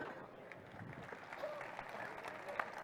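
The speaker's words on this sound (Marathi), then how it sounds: "त्यामुळे आपण दीर्घ वेळ टाळ्या वाजवू शकतो." Audience clapping at an award ceremony honouring workers for thirty years of service, a sustained, soft patter of many hands that sounds distant and low in level.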